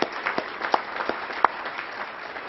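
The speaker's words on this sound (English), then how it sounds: "Please join me in applauding them." Applause for event sponsors at a Churchill Club venture capital discussion event, fairly sparse clapping with a few sharp, distinct claps standing out close by over a thinner patter.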